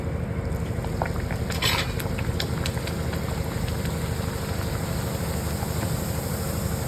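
Kadakani dough frying in hot oil, a dense continuous sizzle and bubbling that stays loud and steady throughout, with a few faint clinks near the start.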